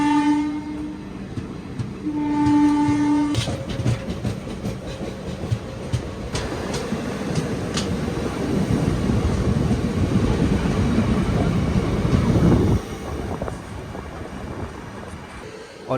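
An Indore Chandigarh Express train passes close by on the rail line, first with a horn blast and then a steady loud rumble and clatter of wagons that ends abruptly.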